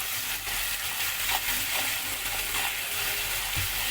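Tomatoes sauté in a pan with a continuous close sizzle and hiss, while the occasional stir or spatula scrape shows through.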